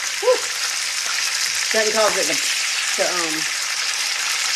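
Pork chops frying in a cast iron skillet make a constant hissing sizzle, with a few brief voice fragments rising over it.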